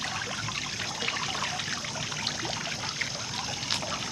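Water from a garden fountain in a suburban backyard trickles and splashes continuously, a steady, even burble with no voices.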